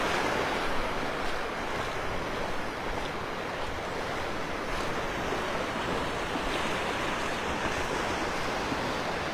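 Ocean waves washing onto the beach at Delnor-Wiggins in North Naples, a continuous dense surf roar with wind buffeting the microphone, steady and fairly close throughout.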